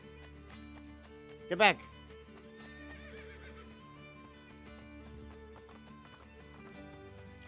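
A horse in the video game Assassin's Creed Brotherhood gives one sharp, loud whinny. Soft clip-clopping hooves and other game sounds carry on underneath, and a voice calls out briefly.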